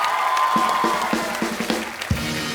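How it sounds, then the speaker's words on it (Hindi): Studio audience applause with scattered cheers after a dance number on a Hindi comedy talk show, a steady wash of clapping carrying through to the end, with a few louder accents along the way. "तो एक बार ऋतिक भाई के डांस के लिए जोरदार तालियां हो जाए।"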